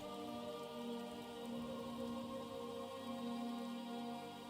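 Recorded rain ambience plays as a steady, soft patter under sustained tonal Skyrim game music, quiet and unbroken throughout.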